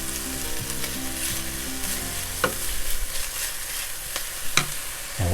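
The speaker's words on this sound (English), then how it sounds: "we're going to throw some already cut garlic buds in there" Chopped garlic sizzling in oil in a pan, a steady loud frying hiss with a few clinks and scrapes of stirring, close by, no one talking.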